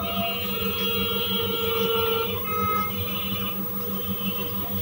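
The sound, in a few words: sewing machine stitching folded fabric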